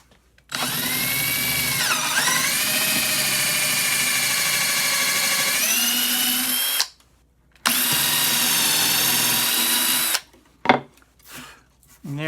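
A power drill fitted with a 17/64 bit runs loud and close while drilling holes for a small school desk, whining in long bursts whose pitch sags and recovers under load, with short pauses and clicks between bursts.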